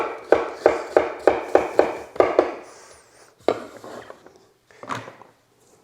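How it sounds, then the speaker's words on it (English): An 8-inch chef's knife slicing zucchini on a bias against a cutting board: a rapid, even run of about eight crisp chops, a pause, then a few slower, sharper cuts. "it's really easy for me to cut through this zucchini"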